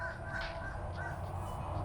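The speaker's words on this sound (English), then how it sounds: "Thanks, Crows." Crows caw a few times outdoors, harsh calls fairly distant and moderately loud over a steady background hum, with no talking.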